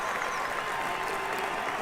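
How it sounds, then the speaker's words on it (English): A crowd applauds in a PC golf video game after a birdie putt, a dense even clatter of clapping that runs unbroken at moderate volume throughout. "Do you hear the crowd?"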